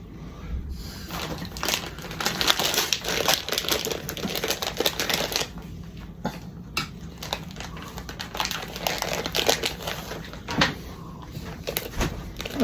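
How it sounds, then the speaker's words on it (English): Parchment paper crinkles and rustles steadily for about twelve seconds while it is laid down in a pan, with dense crackling and short louder crumples. A baking sheet is being lined in a home kitchen for chocolate chip cookies. "Now I'm putting parchment paper down"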